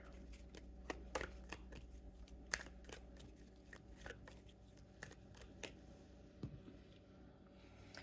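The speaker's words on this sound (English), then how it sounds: "Let's shuffle these ones up." Soft papery flicks and snaps of tarot cards being shuffled, irregular quick taps close by over a quiet low hum.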